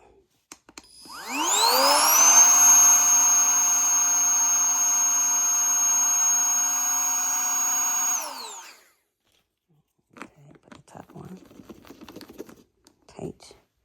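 A vacuum pulling air from a vacuum storage bag packed with bed sheets: a loud motor whine rises quickly, holds steady for about seven seconds, then cuts off, followed by quiet rustling and clicks.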